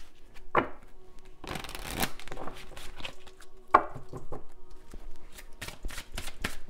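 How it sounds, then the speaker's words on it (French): A deck of playing cards is shuffled by hand nearby, with repeated papery riffles and soft slaps arriving in uneven bursts, some sharper snaps standing out. "Je brasse le jeu"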